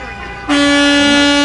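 Truck horn blasting at a Touch-A-Truck event as children sound the horns, a loud steady two-tone blare that kicks in after a short moment of background noise and holds to the end.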